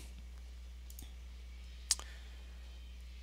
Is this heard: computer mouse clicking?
yes